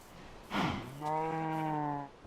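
A sheep bleats in the Minecraft video game on a farm build, one drawn-out wavering bleat after a short noisy burst, clear and close with no talk over it.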